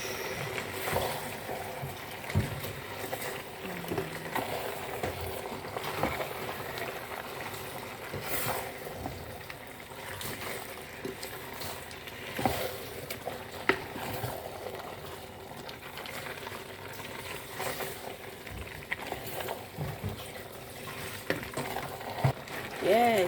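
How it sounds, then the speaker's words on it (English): Egusi soup stirred in a cooking pot, a soft, continuous scraping and bubbling sizzle with irregular clinks, near but quiet, under occasional voice sounds. "Yeah, I'm going to stir now."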